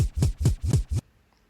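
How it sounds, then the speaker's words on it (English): Homemade baby scratch DJ effect: four quick back-and-forth scratch strokes with rising and falling sweeps, loud and close, ending abruptly in near silence. "I made the baby scratch found in the track myself."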